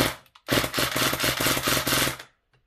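A custom airsoft Spectre SMG fires a continuous automatic burst of rapid, evenly spaced mechanical cracks for nearly two seconds, close and loud, with a few faint clicks before and after; no speech.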